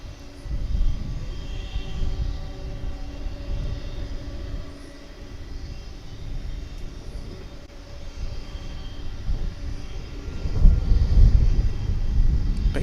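An aircraft taxiing at DFW International Airport gives a steady, distant engine rumble with wind noise that swells louder near the end.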